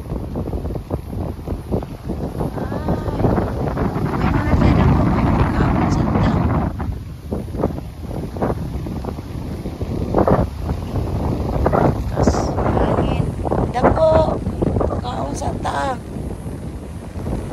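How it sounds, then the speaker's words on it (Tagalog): Strong wind roars and buffets the microphone continuously, with people talking over the gusts. "lakas ng hangin."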